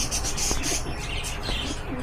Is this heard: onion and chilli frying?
no